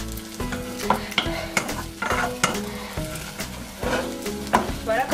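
Choux-style dough being stirred and dried in a saucepan over the heat, with repeated scraping strokes of a spoon against the pan in an uneven rhythm over a soft sizzle, close and moderately loud.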